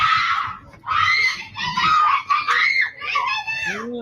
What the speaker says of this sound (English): It sounds like kids playing Ding Dong Ditch or something.